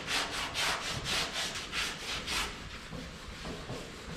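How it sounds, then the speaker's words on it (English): Car bodywork is sanded by hand in repeated back-and-forth strokes, a rhythmic rasping scrape that starts strong and grows softer, with no talking. "now you're sanding forward"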